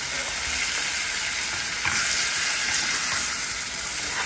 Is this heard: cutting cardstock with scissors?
no